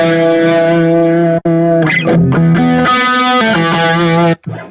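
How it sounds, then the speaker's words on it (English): Electric guitar run through a Zoom MultiStomp MS-50G+ pedal set to tri-chorus, loud sustained notes and a short melodic run with a shimmering, wavering chorus tone and slight grit, briefly cut off twice. "so this is a tri-chorus"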